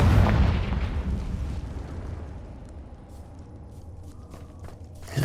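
A Confringo spell blast in Hogwarts Legacy, set in a cave: a loud burst opens the moment and rumbles away into a fading, low echo, with a second sharp hit right at the end.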